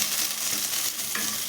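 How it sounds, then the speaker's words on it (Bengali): Sun-dried lentil dumplings (bori) fry in mustard oil in a kadai, giving a steady close sizzle with light stirring scrapes and no voices. "এবারে এর ভেতরে আমি বড়িগুলো দিয়ে ভেজে নেব। বড়িগুলো ভালো করে ভাজবো।"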